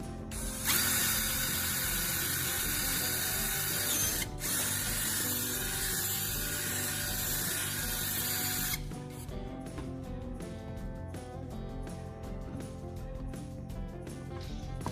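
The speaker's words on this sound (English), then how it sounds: "screw in the threaded part of the spark plug" Rapid ratcheting clicks of a tool screwing in a spark plug, a steady mechanical clatter that continues throughout, with a brief pause partway through.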